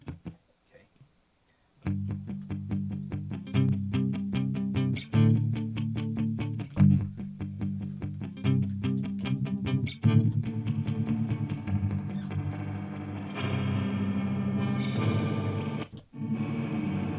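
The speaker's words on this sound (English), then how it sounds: "So on my board, I have a reverb trim after the looper." An electric guitar plays through a looper pedal followed by reverb, layering repeating strummed chord patterns that stack and thicken over time, with a washy, echoing tail and a brief dropout near the end.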